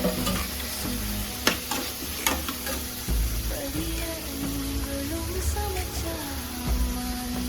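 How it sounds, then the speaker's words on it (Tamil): Tomatoes sautéing in a pan for a beetroot cutlet masala, frying and sizzling steadily close by, with scattered stirring clinks and scrapes throughout and no talk. "அரைச்சி வச்சு தக்காளி நல்லா வதக்கணும்."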